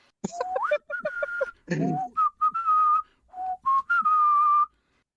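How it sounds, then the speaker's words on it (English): Several people whistle a bright melody of several short phrases from the 1962 film Jack the Giant Killer, clear and close, with quick rising notes and longer held tones; no talking. "And then they start whistling."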